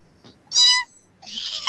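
A person imitates a cat, giving two short, high meows separated by a brief pause, loud and close.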